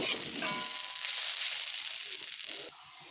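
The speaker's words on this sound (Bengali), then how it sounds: "এবার আমি আরও একটু কষিয়ে নেব" Helencha greens sautéing in a pan with lentil fritters, some broken and some left whole, giving a steady close sizzle with soft stirring that thins out near the end.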